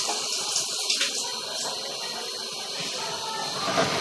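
Steady running water rushes and hisses as it flows into an all-plastic sewer line during a camera inspection, a continuous close wash with no talk over it.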